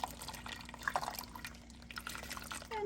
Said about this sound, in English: Now I have some hot water, which I will pour right here in the middle